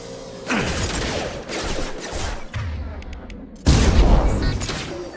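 Gunfire in the sci-fi shooter Mass Effect 2 cracks out in bursts during a firefight, loud and dense, with a heavy blast near the end and game voices talking over the action.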